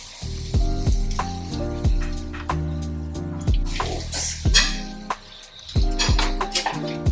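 Pasta dropped into a hot Le Creuset shallow casserole while making chicken pesto pasta, a loud sizzle over clanks of utensils against the pot, close and without talking.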